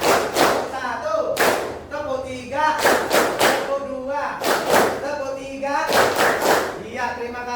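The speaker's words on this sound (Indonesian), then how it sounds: "tepuk 3, tepuk 2, tepuk 3, tepuk 1, tepuk 3, tepuk 2, tepuk 3" A classroom of students claps in a rhythmic pattern of three, two, three and one, crisp bursts of hand claps in repeating groups alternating with chanted voices.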